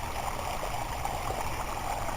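Water pours steadily over a garden pond waterfall built from a hard plastic waterfall box and pond liner, making a constant close rushing splash with no talking.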